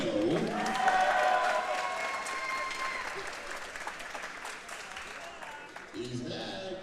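Applause from a crowd at an MMA fight, fairly loud at first and gradually thinning, with some voices and tonal sounds mixed in.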